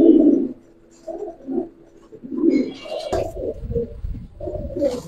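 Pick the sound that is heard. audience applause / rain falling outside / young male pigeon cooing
young male pigeon cooing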